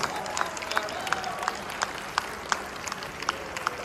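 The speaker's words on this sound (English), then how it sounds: "Can we give him a round of applause?" Audience applause at an event for the Anikulapo film, a modest scattered clapping from a room of people with a few sharper individual claps standing out over a steady background murmur.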